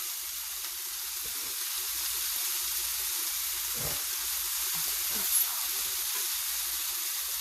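Codfish frying in a pan with cooked vegetables: a steady, close hiss of sizzling steam, with a few soft pops and crackles now and then.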